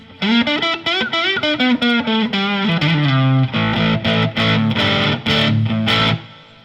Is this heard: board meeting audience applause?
no